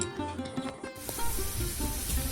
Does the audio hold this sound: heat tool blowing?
no